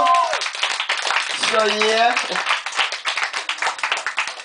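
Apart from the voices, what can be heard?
concert audience clapping for the city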